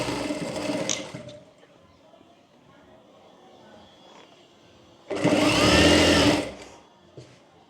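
A sewing machine stitches a blouse sleeve onto the shoulder in two loud bursts, one brief at the start and a longer run near the end, with quieter handling and fabric sounds between them.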